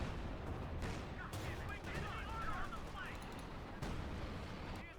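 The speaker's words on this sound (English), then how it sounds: "We got artillery called in as well there." Artillery fire booms in a Company of Heroes 2 battle, several distant blasts spread among crackling gunfire and battlefield rumble, partly beneath a commentator's voice.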